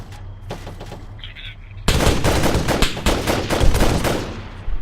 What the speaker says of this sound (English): Shoot the burst across those trees.